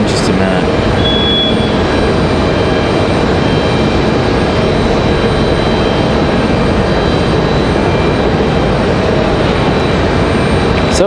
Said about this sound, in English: got Breeze Airways getting ready to come in here